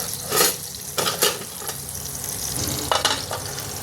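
Capsicum sizzles and crackles in a covered pan, a steady frying hiss broken by a few sharp lid or utensil clinks, close and moderately loud with no talking.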